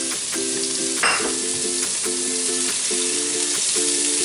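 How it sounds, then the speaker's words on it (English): Steady, close sizzling of food stir-frying for lomo saltado in a hot pan, with a faint repeating mechanical tone running underneath and no one talking. "Hear that sizzling."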